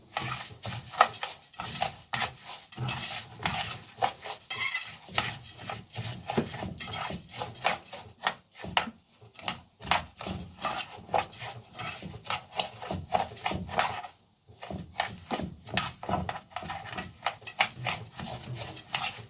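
A spoon stirs rice with toasted vermicelli in a pot, making steady, close scraping and rubbing strokes in a quick, continuous rhythm with only a couple of brief pauses.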